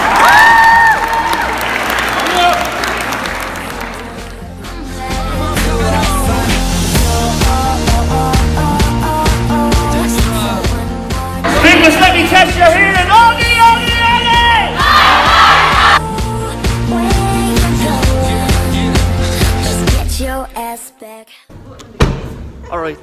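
Crowd at a live gig in Dublin city centre cheering and applauding loudly with shouts, a dense sustained roar that swells and fades before dropping away near the end.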